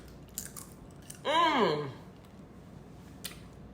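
Crisp dehydrated salt and vinegar cucumber chips being bitten: a few sharp, close crunches spaced apart, with a short stretch of voice in between.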